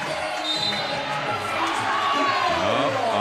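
Crowd at a FIBA 3x3 basketball Olympic qualifying quarter-final roars in a dense, continuous wash of cheering, with occasional ball bounces underneath.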